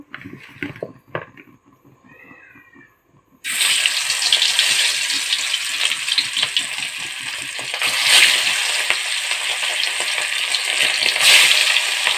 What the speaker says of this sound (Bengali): লবণ হলুদ মরিচ দিয়ে মাখিয়ে রাখা মাছটি দিয়ে দিব